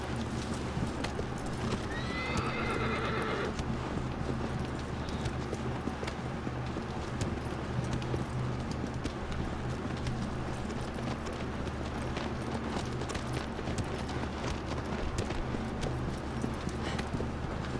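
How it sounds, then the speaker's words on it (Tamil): A horse in Shadow of the Colossus gallops with steady, continuous hoofbeats and gives one clear whinny early on, heard close over a constant game ambience for nearly eighteen seconds. "ஆகரா குதிரை"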